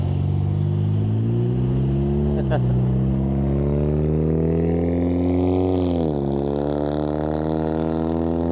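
A noisy car drives past outdoors on a windy day, its harmonic engine drone rising and falling in pitch as it passes, loud and close against steady wind rumble, with a voice heard briefly.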